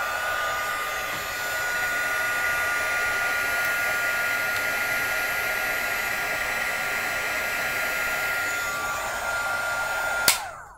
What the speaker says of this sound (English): you're gonna put it in the embossing powder and then heat emboss it. It is going to be noisy.